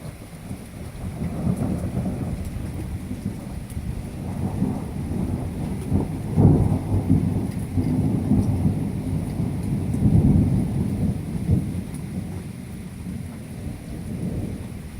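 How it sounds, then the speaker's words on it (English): Thunder rolls in deep, low rumbles through steady rain during a Michigan storm, with several swelling peaks over a constant patter of falling water. "And you guys all hear Michigan thunder instead of Texas thunder."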